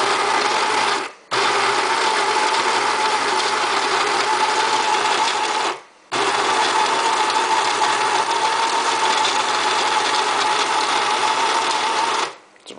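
Baratza Virtuoso burr coffee grinder grinding espresso beans, a steady close motor whir running in three long stretches broken by two brief stops, with no talking.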